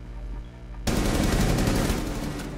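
Gunfire in a tactical shooter game, shot through a wall: after a near-silent opening, a sudden loud burst of rapid shots breaks out and rattles on, close and dense, with no talking.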